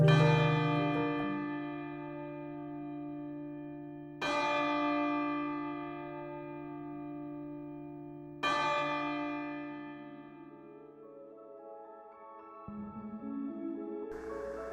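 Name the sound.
original ship's bell rung at wreck memorial ceremony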